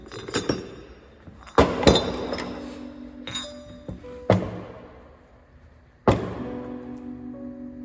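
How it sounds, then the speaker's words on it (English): Metal rotors come off a Bornemann SLH-5G pump with a handful of sharp clinks and knocks, each followed by a short ringing tail, spread irregularly and close by. "Now we remove the rotors."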